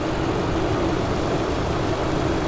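A 5.6-liter V8 engine in a 2015 Nissan NV3500 van idles steadily, a continuous low rumbling drone with no revving or breaks, close to the listener.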